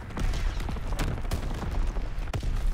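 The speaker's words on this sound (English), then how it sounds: "Sending mortar rounds" Mortar rounds firing in Call of Duty WW2 gameplay: a dense, continuous barrage of booms and cracking blasts with sharper reports standing out, loud and sustained throughout.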